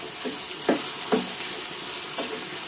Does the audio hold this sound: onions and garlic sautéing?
yes